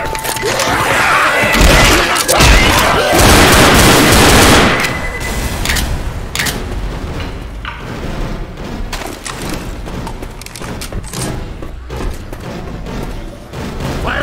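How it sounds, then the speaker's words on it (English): A grenade explosion and gunfire in the Left 4 Dead video game, a loud burst of rapid shots and a boom early on, then scattered fainter shots and thuds. "Grenade!"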